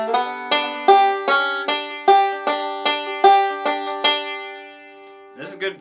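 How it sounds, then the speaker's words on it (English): A banjo picks the opening measures of the tune Redwing at a steady, moderate pace, bright plucked notes ringing clearly and close before trailing off, with a brief voice at the end. "This song's good practice for kind of interpreting a melody on the banjo."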